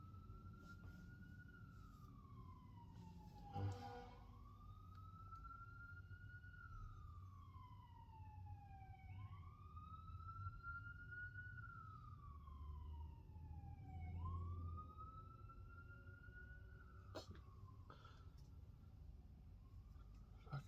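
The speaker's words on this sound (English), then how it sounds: "Fucking sirens killing me." A wailing siren rises and falls in slow sweeps, several cycles, over steady low traffic rumble, moderately distant.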